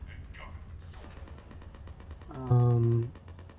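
An assault rifle firing in a video game gives quick, rhythmic shots under a voice, followed near the end by a loud, short tonal blare.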